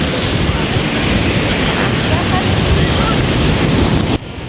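Strong sea waves surge and crash along the rocky shore at Camogli on the Italian Riviera, a loud continuous roar of surf with heavy wind buffeting the microphone throughout, dropping slightly near the end.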